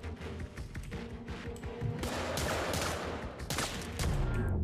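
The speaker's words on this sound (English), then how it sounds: "This corner gun is the worst." Rapid bursts of gunfire from the corner gun in the game Get Even, crisp, close shots in quick rhythmic volleys over a few seconds, building louder toward the end.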